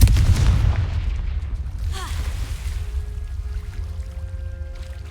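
A Confringo blasting spell explodes in Hogwarts Legacy, a loud low boom at the start that rumbles and fades over several seconds.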